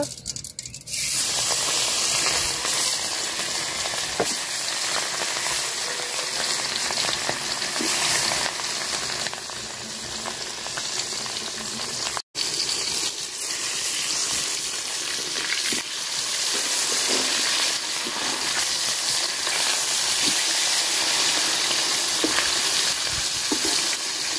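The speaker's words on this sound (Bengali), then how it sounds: "মাছ কড়া করে ভাজা নিচ্ছি" Snakehead fish coated in salt and turmeric fries in hot oil in a pot, giving a loud, continuous sizzle and crackle from start to finish with a few faint scraping sounds.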